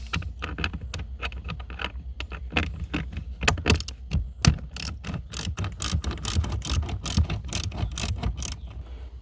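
Tool clicks and metallic ratcheting while unbolting the two bolts that hold the airbag in the interior of a 2009 BMW 750i, a rapid, irregular series of close, sharp clicks and taps with no talking.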